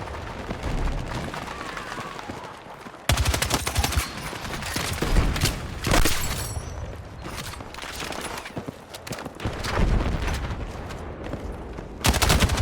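TR-7 rifle fired from the hip in a video game, repeated bursts of loud, close automatic gunfire with rapid cracks and short pauses between strings, over background combat noise.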